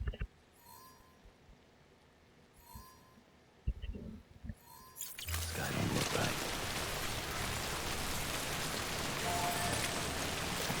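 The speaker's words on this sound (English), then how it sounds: "There's quite a bit of rain across the world." Steady rain begins falling in the game Death Stranding, a dense hiss that swells in after a few quiet seconds with faint tones and soft knocks, then continues evenly and fairly loud to the end.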